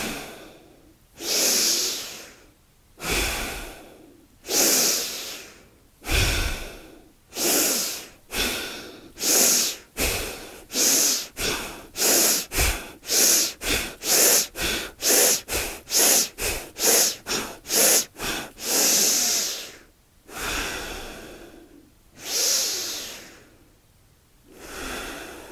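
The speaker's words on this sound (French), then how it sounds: "Expire bouche ouverte." During a yoga breathing exercise, a person breathes in and out forcefully through an open mouth, loud and close. The breaths start spaced apart, speed up into a rapid even series of huffs, then slow down again.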